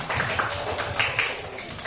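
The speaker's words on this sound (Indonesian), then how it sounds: "Tepuk tangan" Classroom applause, hands clapping together in a quick, fairly even rhythm for about two seconds, moderately loud and close, with no voices over it.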